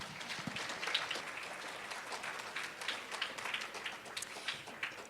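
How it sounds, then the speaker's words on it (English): Faint applause from a meeting audience, a soft patter of scattered clapping heard from a distance and rising and falling slightly, with no speech over it. "One more round of applause, please."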